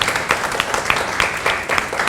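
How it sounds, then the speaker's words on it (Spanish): An audience applauds a guest being welcomed at a panel session marking 25 years of a children's and youth rights council. The clapping is brief and steady, with soft rhythmic bursts from a moderately sized crowd. "Un aplauso para María,"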